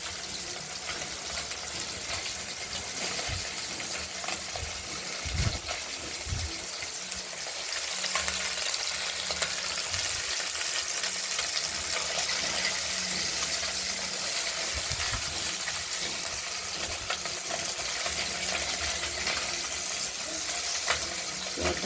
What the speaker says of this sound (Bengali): ছোটো মাছগুলো নুন হলুদ মেখে ভাজতে দিয়েছি। কড়াইতে তেল আগেই গরম করতে দেওয়া হয়ে গেছে।